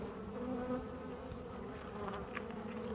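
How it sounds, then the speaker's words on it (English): Dense, steady buzzing of many honeybees swarming around an open hive while frames are handled, close and continuous throughout with no talk. "I'm trying to get these bees into the box as quick as possible."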